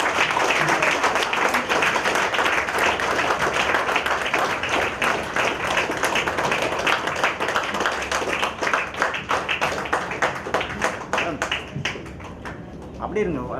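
An audience at a 2024 Coimbatore award function of a Tamil Nadu state professional council claps steadily, the applause gradually thinning into scattered individual claps near the end while people talk.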